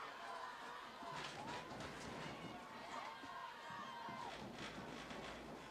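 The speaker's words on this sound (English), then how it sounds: "you love to see the fans cheering out there" Football fans at a high school opening game roar and cheer through a stadium blackout, a steady distant crowd wash with scattered shouts, while a commentator talks over it.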